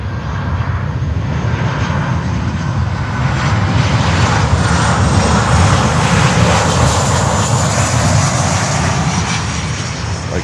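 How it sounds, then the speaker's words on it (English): An Atlas Air Boeing 767 on a maintenance flight at Miami airport, a loud, steady jet roar that swells slightly mid-way and holds, with no voices. "let's keep an eye on this Atlas Air 767. This looks like a maintenance flight."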